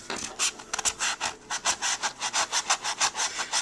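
A sheet of card being sanded by hand with coarse, gritty sandpaper gives a steady run of about fifteen rasping back-and-forth strokes. The strokes are close and fairly loud, and no one speaks.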